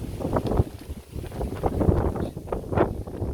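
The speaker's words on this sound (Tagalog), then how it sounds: "Lakas ng hangin dito." Strong wind gusts buffeting the microphone in loud, rumbling bursts that rise and fall, with rustling underneath.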